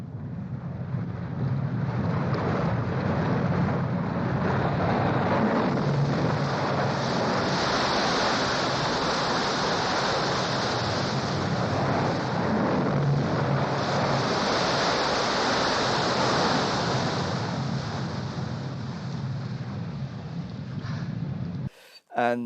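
A film sound effect: constant, loud roar of rushing, crashing water in a tunnel with a windy hiss, continuous throughout before an abrupt cutoff.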